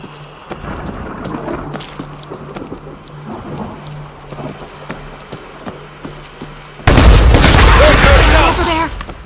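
Automated turret fire in the zombie shooter World War Z, in Rome: a sudden loud burst of rapid gunfire erupting over quieter background rattles and ambient game noise, lasting a couple of seconds.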